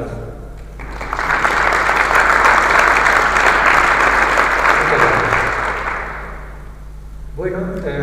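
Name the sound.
audience applause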